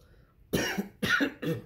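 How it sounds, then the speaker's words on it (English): A sick man coughs three times in quick succession, close and loud, each a harsh burst after a moment of near silence. "Sorry about the coughing too, by the way."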